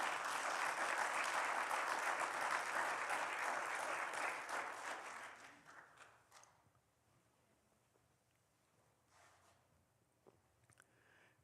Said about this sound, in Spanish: eso es de aplaudir. Amén. Déselo fuerte al Señor.